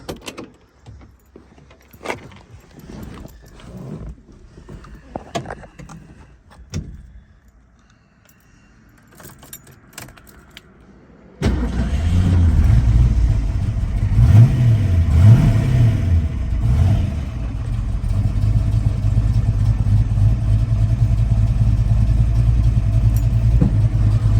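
Keys jangle and a door clunks, then a 1970 Ford Mustang Boss 302 V8 cranks and roars to life, rumbling loudly and revving steadily for several seconds.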